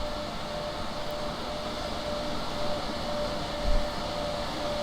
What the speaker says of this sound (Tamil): சைடில் நீங்கள் பார்க்கலாம் EMU ட்ரெயின் கிராஸ் ஆகுது